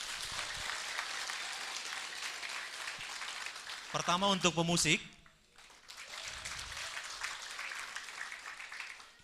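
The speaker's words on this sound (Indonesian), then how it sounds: "Untuk itu, tepuk tangan yang lebih meriah dulu." Applause from an audience at a Christmas celebration held by the GKPS Cililitan church, a short burst of clapping between stretches of someone speaking into a microphone.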